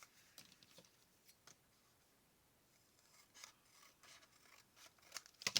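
Scissors snip through paper in a craft project, with a scattered series of short, crisp cuts, sparse at first and then quicker and louder toward the end, close and quiet with no talking.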